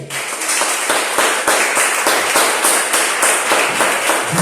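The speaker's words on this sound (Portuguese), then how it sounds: "Aplauda o Senhor com alegria." A church congregation claps together in a steady rhythmic beat, loud and close, filling the room with crisp repeated hand claps.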